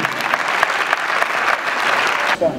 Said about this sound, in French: On applaudit pour elle, s'il te plaît